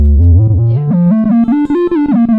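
A gritty, distorted synth line from a Gamechanger Audio Motor Synth pedal, produced by spinning motors, glides upward in wobbling pitch steps, with stuttering gaps near the end.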